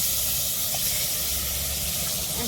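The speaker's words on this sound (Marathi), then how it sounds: "आता कांद्याच्या फोडणीत आपल्याला आपण धुतलेलं मटण जे आहे ना ते सर्व टाकून घेऊ." Washed mutton tipped into sizzling onion tempering with turmeric and oil, a loud continuous steamy hiss filling the short moment, no speech.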